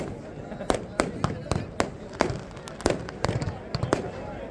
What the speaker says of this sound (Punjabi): ਦੀਵਾਲੀ ਦੇ ਪਟਾਕੇ ਚੱਲਦੇ ਹੋਏ ਨਜ਼ਰ ਆ ਰਹੇ ਨੇ